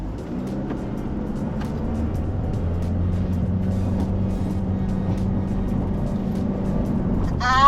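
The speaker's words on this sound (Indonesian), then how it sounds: "Kita mau lihat seberapa cepat mobil ini nyampe sana." Car accelerating hard over a 200 metre run, its engine note rising steadily in pitch and loudness from near, with no talk over it.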